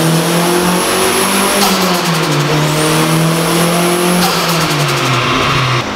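A boosted KA24 engine in a 240SX on a dyno run, revving loud and close and climbing in pitch, with two fast stuttering bursts as it breaks up near the top.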